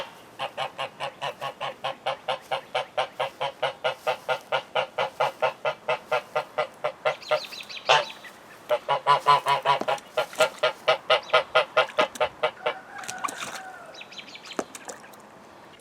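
American Buff geese honk nearby in a long run of rapid, evenly spaced calls, then break into a louder, overlapping burst of honking before trailing off into a few scattered, fainter calls.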